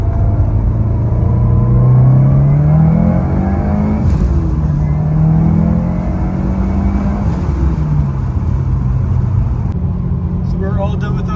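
A Subaru WRX STI with a DCCD Pro diff controller, heard from inside as the engine revs and pulls hard up through the gears on the road, a loud sustained drone that rises and dips with each shift.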